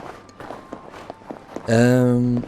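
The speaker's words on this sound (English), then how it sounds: "I hope the snowy footsteps aren't too loud." Snowy footsteps in the video game Titanic: Honor and Glory crunch in a steady walking rhythm, then a loud, sustained voice-like tone rises over them for under a second.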